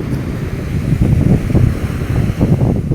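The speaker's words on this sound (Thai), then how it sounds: "คลื่นมาแรง" Strong sea waves surging and breaking on a shore, a continuous heavy low roar of surf mixed with wind buffeting the microphone, loud and close throughout with no speech.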